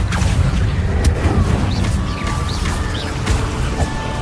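A loud Confringo spell explosion in Hogwarts Legacy combat, a dense rumbling blast with crackling debris and magical whooshes layered over continuous battle noise.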